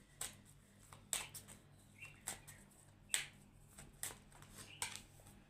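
Tarot cards are drawn and shuffled in a series of faint, crisp snaps and flicks, about one per second, against a quiet low hum.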